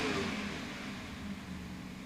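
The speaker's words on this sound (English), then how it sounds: "Boat slowing down." A racing boat engine at a powerboat world championship in Deerfield revs steadily and loudly as the boat slows down, a continuous mid-pitched drone with a slight dip and rise, heard from a distance without talk.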